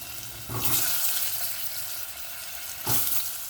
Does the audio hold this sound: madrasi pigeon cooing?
no